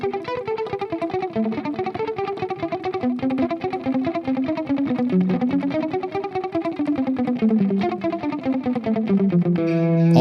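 Distorted electric guitar playing a fast double-picking exercise, rapid evenly repeated picked notes moving through a melodic line, loud and steady with no talking.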